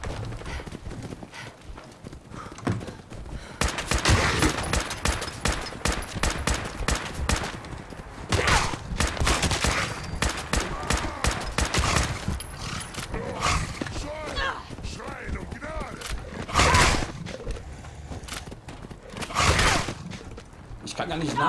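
Dense gunfire in the video game Fallout 4, rapid volleys of shots mixed with clattering hoofbeat-like noise, with a voice talking throughout.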